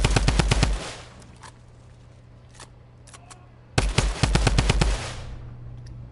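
Rapid bursts of automatic gunfire in Fortnite Battle Royale, a loud rattling volley, a stretch of scattered single shots and clicks, then another long loud burst; close and prominent with no talking.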